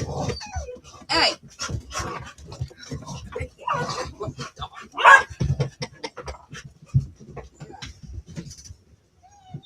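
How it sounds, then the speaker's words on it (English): A litter of puppies growls, yips and pants in rough play, a busy tangle of small scuffling sounds close by, with people's voices talking over and around them. "Sounds like a bunch of puppies trying to prove dominance over each other"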